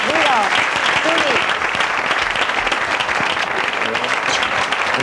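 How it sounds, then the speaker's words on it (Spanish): Studio audience in a TV interview show applauds loudly and continuously, dense clapping from a sizeable crowd, with a voice talking over it at the start. "A ver, ese aplauso, Chuli"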